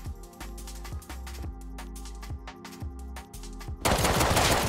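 Automatic gunfire in the survival game Rust, with several rapid bursts of loud, sharp shots in close succession, then a dense roar of noise at the end, no talking.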